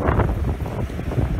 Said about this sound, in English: Still getting some pretty good splashes over the side